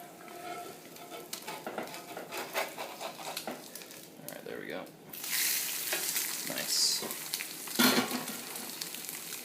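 An egg fries on a Lodge cast iron griddle with a spatula scraping and tapping at it, then the sizzle swells into a loud steady hiss partway through, close up, with occasional clatter.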